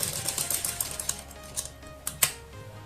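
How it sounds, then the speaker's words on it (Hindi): A sewing machine running a straight stitch on a Punjabi kurti neckline, with a quick, even mechanical chatter in short bursts, close and clear, with no talking. "उस पर सीधी सिलाई लगानी है"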